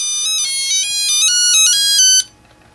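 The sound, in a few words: handheld electronic game loud tune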